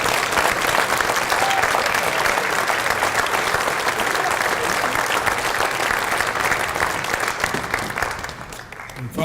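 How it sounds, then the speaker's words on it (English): A large crowd applauds Washington High School Hall of Fame honorees at a 2018 induction ceremony, dense sustained clapping that holds for about eight seconds before tapering off. "let's give them a round of applause"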